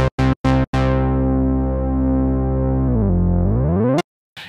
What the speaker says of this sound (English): This is the Mini V, and there's this bass.